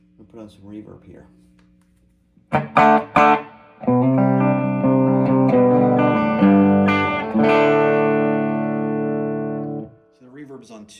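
Electric guitar played through a Fender Blues Junior tube amp on the bridge pickup with reverb added, ringing chords that sustain and decay, bracketed by brief talking before and after.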